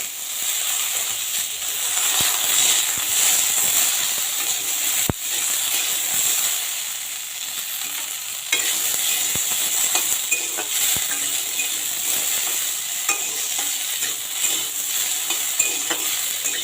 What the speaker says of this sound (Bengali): আলুটা দিয়ে 2-4 মিনিট আমি ভেজে নেবো আলুগুলো।